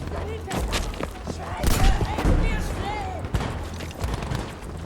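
Battlefield V shotgun blasts as sharp, loud booms amid dense in-game combat noise, with someone talking excitedly over the action.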